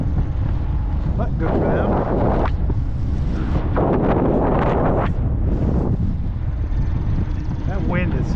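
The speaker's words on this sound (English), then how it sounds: "That wind is something else though today" Strong gusting wind buffets the microphone while a cyclist rides an errand run in Maine, a loud low roar that surges and drops in waves, with someone speaking briefly near the end.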